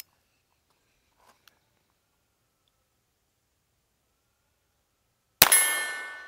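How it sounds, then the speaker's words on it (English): A .22LR round from a century-old Smith and Wesson single-shot rifle striking a firebird target: after near silence with a couple of faint ticks, one sharp metallic clang rings out and decays. "Oh, I hit the very top of that firebird, but it didn't go off."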